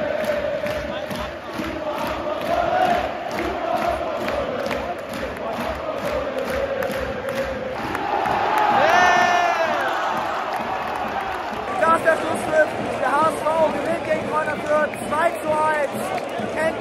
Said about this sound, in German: Die Zuschauer sind immer richtig da.